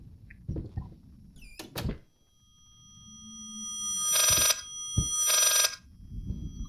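A phone rings in the horror video game Layers of Fear, two loud, buzzing bursts about a second apart, set among sharp thuds and a rising low drone in an otherwise quiet space.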